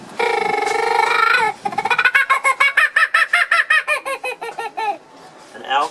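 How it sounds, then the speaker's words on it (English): Kookaburra whistle demonstrated at the Royal Melbourne Show: a sustained warbling tone, then a rapid run of about twenty loud, rhythmic laughing hoots that slow toward the end, close and clear. "Got a kookaburra whistle as well."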